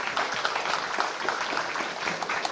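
An audience at a school anti-narcotics program launch applauds the regent of Belitung, with steady, dense clapping from many hands sustained at an even level throughout.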